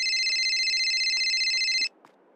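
Steady electronic telephone ring tone on an outgoing call, one continuous burst of nearly two seconds that cuts off abruptly, followed by faint room noise.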